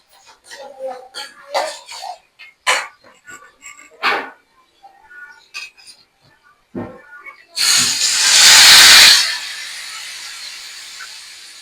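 Water is poured into a hot pan of fried semolina, bursting into a loud, close hiss of steam that fades over a few seconds; scattered short, sharp sounds come before it.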